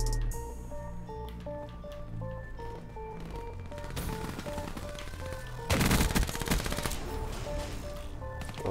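Rapid-fire gunfire from Call of Duty Black Ops 3 rattles in dense bursts over steady tonal game music, growing louder and heavier partway through, with no one talking.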